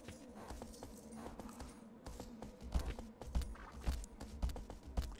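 A horse's hooves clop along at a steady walking rhythm in the PS2 video game Shadow of the Colossus, moderately loud and close, over a low game ambience with no talking.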